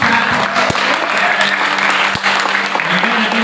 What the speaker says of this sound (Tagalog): isang malakas na palakpak muli